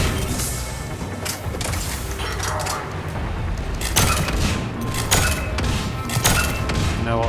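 Gunfire and impacts in a Mass Effect 3 battle: loud cracks, thuds and bursts of shots scattered over a noisy combat background, with a few sharper blasts later on.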